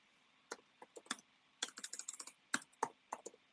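Someone types on a computer keyboard in short uneven bursts of crisp clicks with brief pauses between, close and distinct over a quiet room, no talking.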